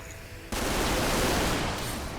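A pistol fires in XCOM 2, a sudden loud burst that cuts in after half a second of quiet and then holds as a dense, sustained crackle of shots and echo to the end.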